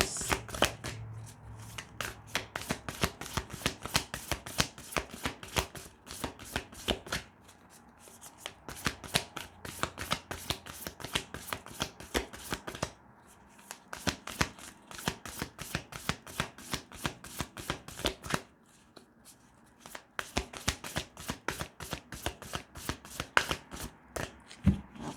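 A deck of tarot cards is shuffled over and over in quick riffling bursts with short pauses between, close and fairly quiet, with no talking.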